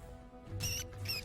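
Rats squeak in the video game Dragon Age Origins, two brief high-pitched squeaks in quick succession over a low game background hum.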